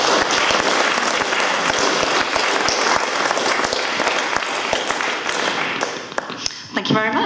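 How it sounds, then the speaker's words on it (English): An audience at a talk on extinction and conservation ethics breaks into sustained applause, a dense crackle of clapping with a few distinct nearby claps, fading near the end as a speaker begins to talk. "a big round of applause"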